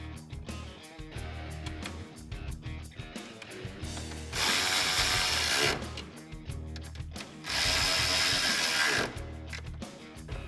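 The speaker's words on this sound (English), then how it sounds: "reinstall my 2 10mm nuts on the corner of the front bumper and tighten them down with my" Ratchet with a 10mm socket tightening nuts on the corner of a 2018-2021 Mustang front bumper, giving close rapid clicking in short bursts, interrupted twice by longer harsh buzzing passages.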